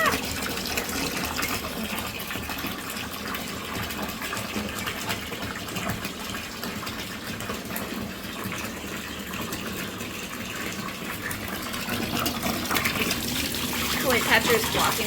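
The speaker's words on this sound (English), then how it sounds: "I'm gonna get a good rinse in the bucket." Water sloshing and pouring steadily in a bucket as a dress is rinsed by hand, a continuous close wash of liquid that swells slightly toward the end.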